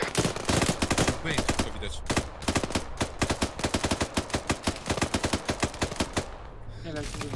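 Rapid automatic gunfire in the military shooter ArmA 3, dense bursts of loud shots repeating steadily, with a brief spoken remark over it.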